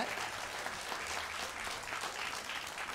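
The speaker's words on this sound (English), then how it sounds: "they're clapping for you" Students in a school music showcase audience clap steadily, a soft, distant wash of many hands that carries on evenly for a few seconds with no clear break.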